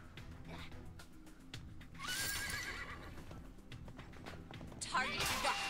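Horse neighs and whinnies in the video game Paladins, with clip-clop hooves and gunfire-like clatter, under a player's talk; a high whinny rises near two seconds and another near the end.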